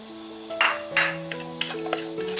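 Aromatics stir-fried in a wok for tomato and egg, a spatula scraping and clinking against the metal in several quick strokes over a light sizzle, close and moderate, with steady tonal background music beneath.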